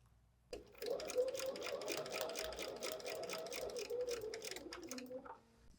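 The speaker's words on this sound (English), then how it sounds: "Let me go sew that." A sewing machine stitching fabric for foundation paper piecing, a fast, steady mechanical whirr and ticking run lasting about five seconds before stopping, close and fairly quiet.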